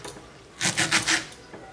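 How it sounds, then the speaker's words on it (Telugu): A knife finely chops fresh coriander on a board, a quick run of four crisp taps close by, with quiet pauses before and after. "కొత్తిమీరని సన్నగా చాప్ చేసుకుంటున్నాను."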